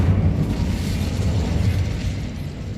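A dense, rumbling blast of magic fire from the Incendio spell in Hogwarts Legacy, a sustained low roar lasting a few seconds, loud and steady with no voices over it.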